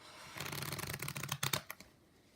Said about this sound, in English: You're going to do another Riffle Shuffle